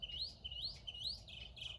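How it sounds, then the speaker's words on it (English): A single small bird chirps in quick repeated bright calls, about four or five short tweets in a row, faint and somewhat distant over a soft low background hum. "That bird is just happy for today."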